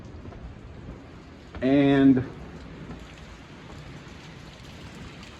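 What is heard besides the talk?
rain falling before a hurricane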